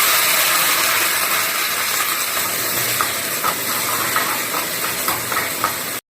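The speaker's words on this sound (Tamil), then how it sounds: "காஞ்ச மிளகாய், பச்சை மிளகாய், அப்புறம் வெங்காயம், கருவேப்பிலை எல்லாத்தையும் போட்டு தாளிச்சிக்கலாம்" Dried red chilies, green chilies, onion and curry leaves temper in hot oil with a loud, steady sizzling hiss and scattered crackles that stop abruptly at the end.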